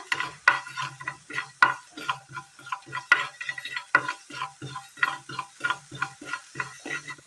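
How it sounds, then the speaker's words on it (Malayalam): A spoonful of sesame seeds being stirred and roasted in a pan for a Kerala curry, with a steady run of light scraping and tapping from the spoon and faint crackle, close and fairly quiet. "ഇതിലേക്ക് ഒരു സ്പൂൺ എള്ളിട്ട് കൊടുക്കാം ജസ്റ്റ് ഇതൊന്ന് ചൂടാക്കിയെടുക്കുക"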